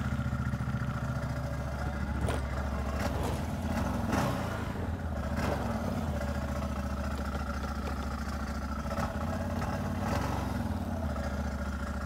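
Engine of a used CFMOTO ATV with clutch problems runs steadily and loudly up close, its buzzing drone holding at a sustained high pitch with a few slight surges and dips and no break.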